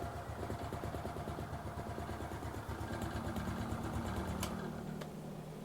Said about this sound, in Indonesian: Ini mesinnya nyala ya. Dan kita langsung matiin aja nih.